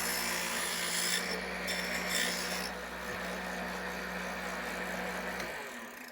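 A small motorized saw cuts wood for ship model gratings, a steady close motor hum with a rasping cutting noise running several seconds before it winds down at the end.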